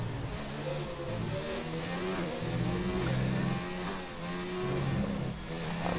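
Racing car engine in an F1 video game at the Hungarian GP, roaring and shifting pitch steadily as it runs a fast lap, loud and continuous with no talk over it.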